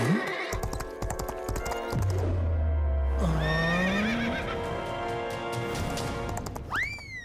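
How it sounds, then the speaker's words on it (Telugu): A cartoon horse gallops with quick clip-clop hooves and lets out a loud, wavering neigh, followed by further whinnies and cartoon sound effects, with no one speaking. "కిటి ఇంత బాగా గుర్రం స్వారీ చేస్తుంది చూడు"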